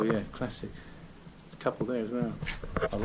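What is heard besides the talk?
None of the usual background noises is heard.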